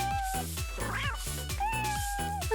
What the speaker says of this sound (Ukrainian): Гарна кішка.